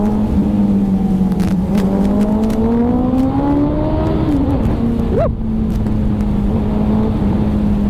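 Suzuki Hayabusa motorcycle in second gear on a Delhi road, engine droning loud and close, pitch rising and falling with throttle, one sharp rev swell midway, continuous without speech.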